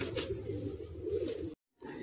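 Giribaz pigeons in cages coo steadily and softly for about a second and a half, then a brief silence falls before the cooing resumes faintly.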